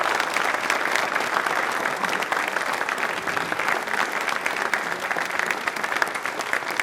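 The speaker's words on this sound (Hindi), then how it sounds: "तो एक बार तालियां जोरदार वाली जाए, कम ऑन।" A studio audience at a televised quiz show bursts into strong, continuous applause, a dense steady wash of many hands clapping at even loudness throughout.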